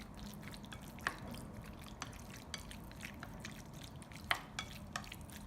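Marinated chicken gizzards being mixed with oyster sauce and ginger, soft wet squelching and dripping with a few sharper clicks of utensil on bowl, quiet and close.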